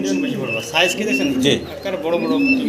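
Pigeons coo in repeated low, rolling phrases, close by, with people talking over them throughout.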